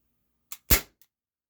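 A sharp, snappy air pistol shot with a crisp blowback clack, preceded by a faint click and followed by a tiny tick, close and loud.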